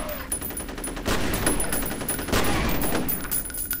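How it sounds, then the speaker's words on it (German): Rapid bursts of automatic gunfire in the first-person shooter F.E.A.R., loud and sustained across the whole stretch, with heavier volleys swelling partway through. "jetzt schieße ich auch mal wie ein Wilder"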